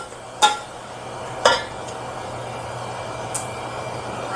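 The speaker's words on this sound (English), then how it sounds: "We're going to add in the lemon juice to it. I'm going to stir that around a little bit." Drained penne pasta being stirred with lemon juice in a pot, giving a few sharp utensil clinks against the cookware spaced over a few seconds, with quiet soft mixing between them.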